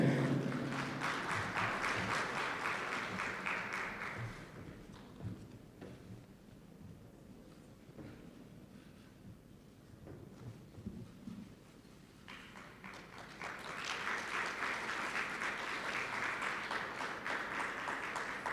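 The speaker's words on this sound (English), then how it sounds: "Give him another big round of applause, please." Applause at the JTA Roll of Honour Award 2022 ceremony swells loudly at the start, fades to scattered claps in the middle, then rises again into sustained clapping from the audience.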